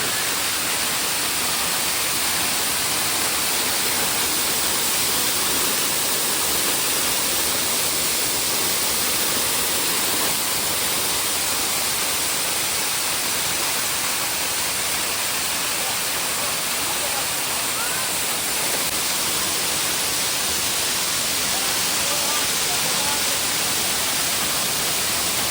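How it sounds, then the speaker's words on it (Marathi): The Ghonsari waterfall crashes down in a loud, unbroken roar of white water that fills the whole stretch at a constant level, with no pauses or talk. "पहा मित्र, अतिशय सुंदर धबधबा आहे"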